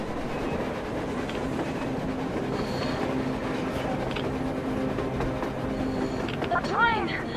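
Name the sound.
train on rails in Metro Exodus video game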